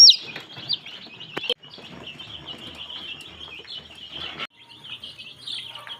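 Tiger breed chicks chirp while being given eye-drop and oral vaccine doses. Shrill, high peeps sound close and almost continuous, with sharper individual cries over the steady chorus.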